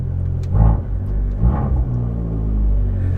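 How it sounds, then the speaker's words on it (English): From inside a 2013 Fiat 500 Abarth, the exhaust gives a deep rumble with two blips of revving, each swelling and falling back, then a steady low drone. "You just gotta love the sound of that exhaust, and it just sounds amazing"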